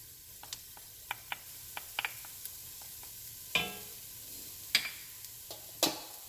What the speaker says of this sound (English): So now I am going to add 3 cloves of minced fresh garlic.